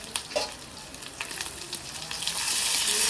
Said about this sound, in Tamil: ஓகே வெங்காயத்தை வட்டி போட்டுட்டு நல்லா வதக்கணும் வடிவாக பொரியணும்.